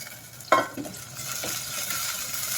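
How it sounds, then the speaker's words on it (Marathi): Chopped tomato tipped into ginger garlic paste in a hot pan gives a sharp sizzle and clatter that settles into a steady soft frying hiss, close and fairly quiet, no talking. "त्यामध्ये आता मी हा चिरून घेतलेला टोमॅटो घातला."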